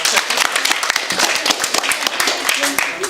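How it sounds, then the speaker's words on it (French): A small group claps at a potato-peeling contest, scattered crisp claps at close range mixed with ongoing talk and voices. "Applaudissez quand même un peu de fair play."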